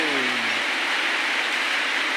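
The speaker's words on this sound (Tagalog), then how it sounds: "Ulan-ulan na naman sa amin." Steady, dense hiss of rain falling over farmland in the countryside of Agusan del Sur, Philippines, with no gaps and no voices.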